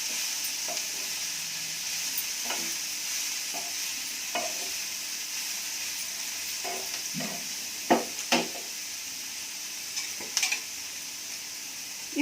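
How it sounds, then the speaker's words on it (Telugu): A carrot and beans curry is stirred in a pan, with soft repeated spoon scrapes and a few sharper knocks over a quiet, steady sizzle. "అంతా ఒకసారి తిప్పుతాము"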